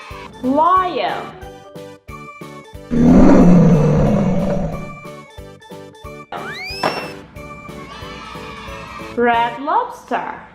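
A lion's loud, rumbling roar swells in the middle, surrounded by squeaky cartoon vocal sounds and a steady rhythmic children's music beat.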